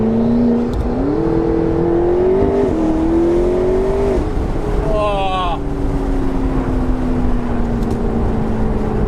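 A McLaren 650S Spider sports car accelerates hard, its engine note climbing steadily through a long pull, then a gear change, then another rising surge. The engine is loud and close, with a brief exclamation from a voice over it.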